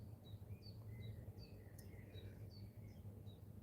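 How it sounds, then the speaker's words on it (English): Birds chirp and whistle faintly in the distance in a steady series of short high calls, partly under a low hum of background noise. "Listen to the birds. I love these birds."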